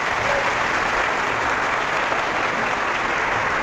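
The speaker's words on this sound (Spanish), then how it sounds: "Un aplauso para él." Audience applause fills a debate hall between a priest and a Protestant pastor, a steady, loud wash of clapping hands that holds at an even level throughout without speech over it.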